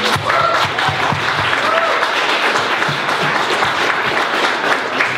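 An audience at a talk on Irish trans history claps in a continuous, fairly loud burst of applause with scattered cheers and voices, sustained evenly for several seconds.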